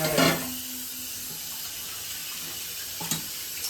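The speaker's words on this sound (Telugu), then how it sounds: "కొంచెం నీళ్ళు పోస్తా" Water splashes from a vessel into a pot of gongura mutton boti curry, with a short pour at the start and a brief second splash near the end over a faint steady hiss.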